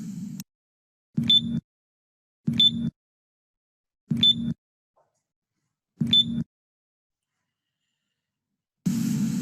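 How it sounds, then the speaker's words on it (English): An IDS XSeries alarm keypad gives four short, identical beeps at even intervals of about 1.4 seconds while a key is held, each one sharp and clear against a soft low hum, with no voices. "holding the 3 key until it beeps"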